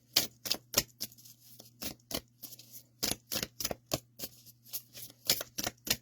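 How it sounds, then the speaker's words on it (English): Tarot cards are shuffled by hand in a quiet room, crisp riffling bursts arriving in an irregular rhythm with short pauses between them and a faint low hum underneath. "These ones are harder to shuffle."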